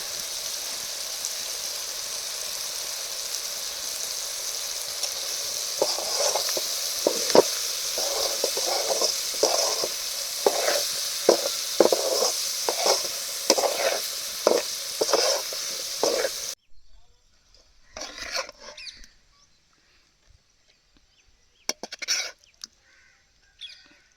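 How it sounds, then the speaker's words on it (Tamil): Curry leaves hit a hot gooseberry (amla) pickle with a loud sustained sizzle and crackle. Sharp popping bursts run through it for about sixteen seconds, then the sound cuts to near silence with a few faint scrapes and distant crow caws. "இப்போது கருவேப்பிலை தூவி இறக்கிங்களாங்க"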